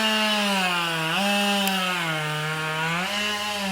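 Chainsaw cutting through wood for a pile, a steady loud buzzing whine close by that dips in pitch twice as the chain bites, running alone without talk.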